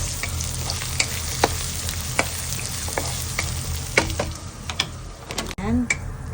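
Chopped onion frying with garlic in a pan for a wagyu beef kaldereta, a steady close sizzle with scattered clinks and scrapes of a stirring spoon, and a brief voice near the end.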